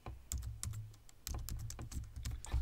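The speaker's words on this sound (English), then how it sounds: "then you type in the code from your teacher" Quick, close clicks of a computer keyboard as a game code is typed, arriving in short uneven bursts of keystrokes with brief pauses between them, quiet and alone.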